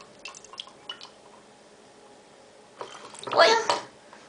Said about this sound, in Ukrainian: Давай налиємо туди водички